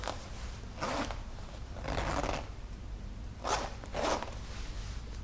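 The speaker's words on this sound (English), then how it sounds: "That was the zipper to my fly." Four quick pulls of a trouser fly zipper, each a short raspy burst, spaced about a second apart, close and fairly soft with quiet between.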